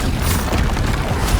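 A Confringo or Bombarda spell in Hogwarts Legacy bursts with a loud, booming explosion and a short, rumbling blast close at hand.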